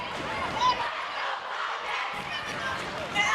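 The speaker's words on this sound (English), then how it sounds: "The AMS crowd is loud and rowdy." A loud, rowdy crowd fills a school gym during a middle school boys basketball championship game, with steady cheering and chatter throughout and brief louder swells near the start and end.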